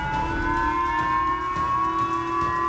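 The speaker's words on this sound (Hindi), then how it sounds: "खतरे का सायरन जापान में बजा" A steady, droning air raid warning siren in Japan, sounded after a North Korean missile launch, wails continuously at a constant pitch, loud and unbroken, with no voices.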